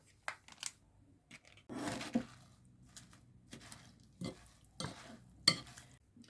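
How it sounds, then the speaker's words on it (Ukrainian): A spoon works through a salad dressed with mayonnaise, giving a series of close, wet squelching and scraping strokes separated by brief quiet pauses, with no voices. "Заправлю майонезом і гарненько перемішаю."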